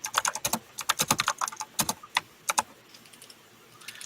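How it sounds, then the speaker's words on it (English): Fingers type on a computer keyboard at home while copying text, quick bursts of sharp key clicks in irregular clusters, close and distinct, trailing off into quiet near the end. "I'm typing this in because it's a picture and I can't copy from the picture"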